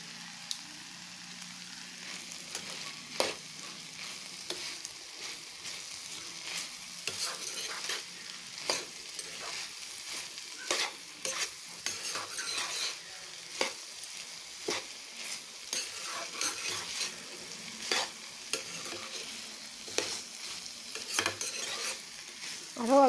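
Coriander leaves and chopped green chilli being stirred into a frying pan in a home kitchen, with a low continuous sizzle under repeated scraping and clinking of a spoon against the pan, close by and with no talking.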